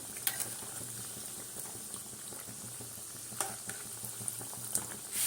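Kachori being deep-fried in hot oil for a crispy moong dal stuffed snack, giving a steady close bubbling sizzle with a few sharp pops and splatters standing out.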